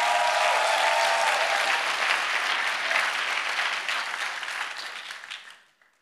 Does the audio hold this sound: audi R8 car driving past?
no